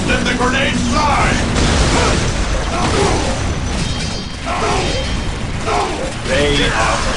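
Grenades explode in a Warhammer 40K Dawn of War Dark Crusade battle between Space Marines and Tau. Repeated loud, booming bursts crash through dense, continuous combat noise.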